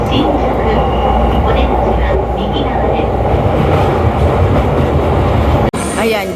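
A Shinkansen bullet train at a Kyoto station platform, a loud steady rumble and clatter close by that carries through the whole stretch before a sudden cut, with voices faintly mixed in.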